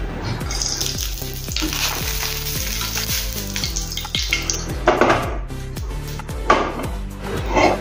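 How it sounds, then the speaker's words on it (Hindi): Ghee sizzling in a pan for frying semolina for suji laddu, a bright continuous fry with a spoon stirring and clinking against the metal, and a couple of louder scrapes near the end, with no talking. "अभी इसमें हम घी डालेंगे"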